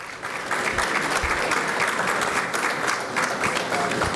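An audience at the Bahamas Business and Investment Forum in New York applauds a panel of speakers, many hands clapping in a full, continuous wash that stays strong throughout.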